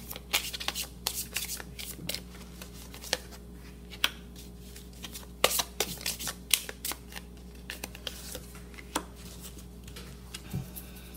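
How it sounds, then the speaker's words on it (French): Tarot cards being shuffled up close: a long run of soft riffling and sharp snapping clicks at an irregular rhythm, with faint talk underneath. "j'aime bien brasser, j'aime bien que les bonnes cartes se manifestent pour vous délivrer le meilleur message qui soit."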